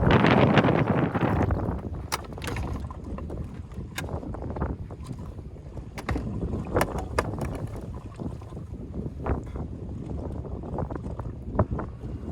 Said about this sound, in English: The wind is really, really ripping now.